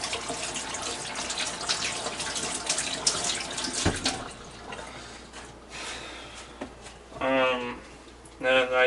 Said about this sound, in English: I'll just rinse it with water really quickly.